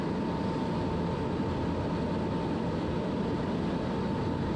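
A SubSonex single-seat jet climbs out from the Carson City area at about 130 knots, giving a loud, steady cockpit roar with a constant whine and no change in pitch.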